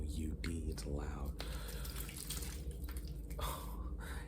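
Water hisses and splashes as it squirts from a loosely closed water bottle, close and fairly quiet, with wet spattering and dripping throughout and soft voice sounds mixed in.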